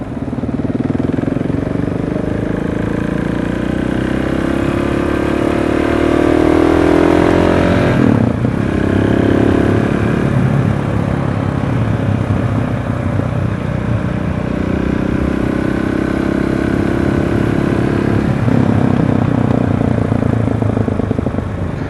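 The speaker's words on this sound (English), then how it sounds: "It has an Akrapovic exhaust on it. That sounds good." A KTM 690 SMC motorcycle with an Akrapovic exhaust idles and revs with a deep, throaty exhaust rumble, steady and loud throughout, rising and falling in pitch a few times.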